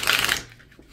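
Oracle cards from a Green Witch deck are ripple shuffled close up, giving a quick fluttering burst of riffling paper that stops abruptly, followed by a few faint taps, with no talk.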